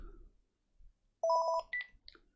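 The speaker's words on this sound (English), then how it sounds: "Oh, go away, phone. Now's not a good time." A phone rings during a MacBook Air soldering repair, a loud pair of electronic tone bursts followed by a second shorter chirpy burst, standing out against a quiet workbench.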